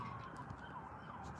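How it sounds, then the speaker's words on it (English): Police car sirens wail faintly in the distance in Maine, a thin wavering tone over low background rumble with no one speaking. "I hear police cars now."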